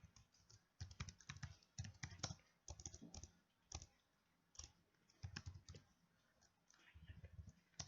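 Rapid, uneven keystrokes on a computer keyboard while HTML image code is typed, clicking close and steady in bursts with brief pauses between runs.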